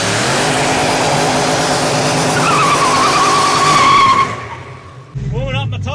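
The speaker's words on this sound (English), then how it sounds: "Warming up my tyres, my mud tyres." A V8-powered Nissan Silvia on mud tyres skids loudly during a tyre warm-up in a racing setting. Its roaring engine and a rising tyre squeal run close and steady, then briefly cut out before the engine revs up again.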